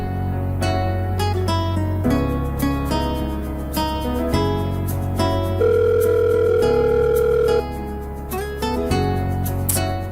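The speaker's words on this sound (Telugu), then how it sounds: "కాల్ లేపట్లాడేంటి ఎన్నిసార్లు చేసినా?" A phone's melodic ringtone plays loud and steady for about ten seconds with nobody answering, its tune repeating over a deep sustained bass and no voices.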